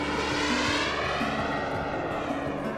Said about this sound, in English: we're here at the 2020 Jet Jam, very important gathering for the RC jet plane community